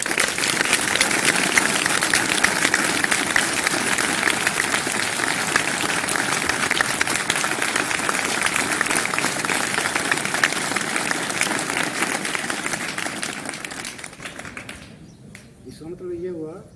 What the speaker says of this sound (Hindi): इतनी तालियों से नंबर नहीं आएंगे, और बजाएं।